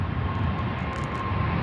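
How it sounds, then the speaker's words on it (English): An airplane takes off near a large airport with Boeing 747s, its engines producing a continuous low, broad roar heard from a distance. "Oh, plane took off."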